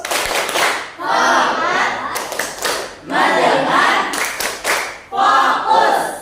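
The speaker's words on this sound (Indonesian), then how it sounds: "1, 2, 3, tepuk fokus." A school class does a rhythmic 'tepuk fokus' clapping chant during a microteaching lesson, with three loud bursts of patterned clapping mixed with children's chanting voices, separated by short pauses.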